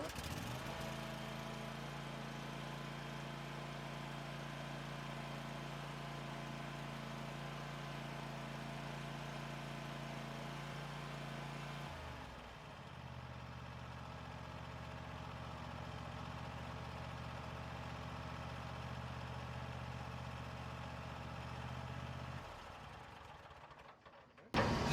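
A Kohler Courage 22 hp SV-715 engine on a zero-turn mower runs steadily at close range for about 25 seconds. Its pitch and tone shift partway through, then it keeps idling with no talk over it.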